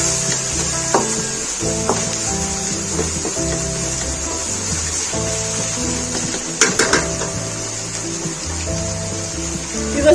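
Khara masala keema frying on a medium flame, a steady soft sizzle with occasional scraping and light clinks of a utensil against the pan, close and continuous under faint background tones.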